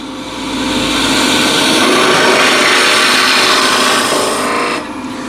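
A wood lathe hollowing out a piece of timber, the gouge cutting steadily and throwing off shavings in a continuous broadband rasping hiss that holds for about four seconds before easing as the tool is lifted.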